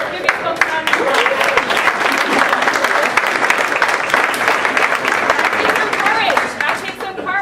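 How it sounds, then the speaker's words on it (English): An audience at a business roundtable breaks into sustained, dense applause that carries on throughout, with voices mixed in among the clapping. "Give these folks a round of applause."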